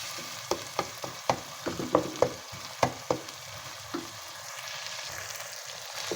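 Minced meat (keema) fries with garlic ginger paste in a pan, a steady sizzle broken by sharp scrapes and knocks from a stirring utensil, bunched in the first half and then thinning out, with no talking.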